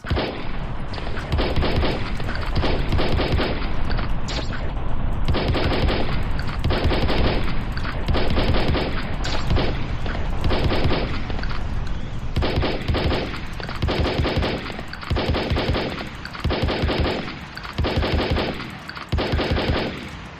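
Shotgun and other gunfire in the video game Memoirs of Magic, a loud, dense, nonstop barrage of rapid shots with pulsing bursts running throughout.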